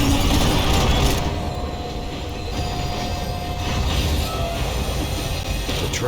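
A tram slowing down at a stop in the video game Max Payne 3, a loud, continuous rumbling rail roar with faint squealing wheel tones that eases slightly as it decelerates, with no talk.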